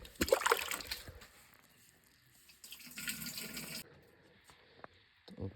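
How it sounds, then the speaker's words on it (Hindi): Tap water is poured into a container to mix a sterilization solution for rootstock plants, giving a near splashing gush in two bursts, the second one quieter, before it falls silent. "तो मैं पानी डालता हूँ।"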